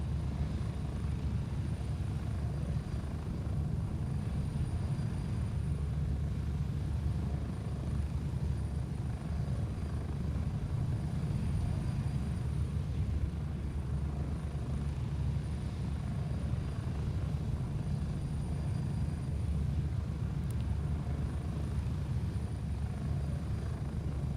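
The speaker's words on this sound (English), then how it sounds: "I do love flying around these helicopters, like gotta be said." A helicopter in the video game Gray Zone Warfare drones steadily in flight, a loud, unbroken rotor and engine roar with no voices over it.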